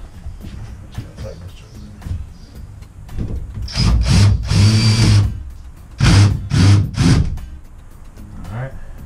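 A screw gun drives screws in short, loud whirring bursts during a Sterling four-piece shower installation, with workers talking in between.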